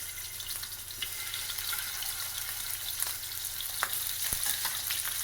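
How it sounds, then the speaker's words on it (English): Large shrimps sear in a hot pan with a steady, close sizzle and crackle that holds for the whole stretch, broken by a few faint clicks; nobody talks. "The shrimps are getting seared on both sides."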